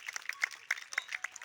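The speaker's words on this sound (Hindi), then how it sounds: "एक बार जोरदार तालियों से उनका स्वागत कीजिए" An audience at a school drama event gives faint, scattered applause to welcome the chief guest, the uneven claps sounding soft and somewhat distant.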